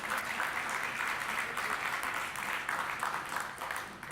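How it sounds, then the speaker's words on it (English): An audience at a Slack developer conference session applauds in a steady, dense wash of clapping that holds for about four seconds, fairly loud and unbroken. "I'm really embarrassed that there was clapping for that small feature"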